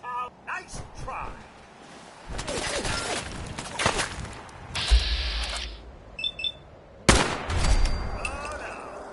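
Gunfire in the video game Fallout 4: a scatter of sharp shots and bursts at close range, mixed with other game effects and voices talking over the action.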